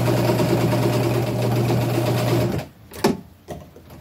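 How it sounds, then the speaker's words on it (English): A sewing machine runs a short back stitch to lock a seam on upcycled clothing, a loud, steady mechanical whir for about two and a half seconds before stopping, followed by a few sharp clicks and knocks. "I usually do a little back stitch to lock it in"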